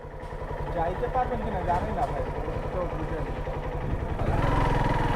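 A motorcycle engine running on a rough road under construction, a steady mid-pitched rumble that swells near the end, with people talking over it.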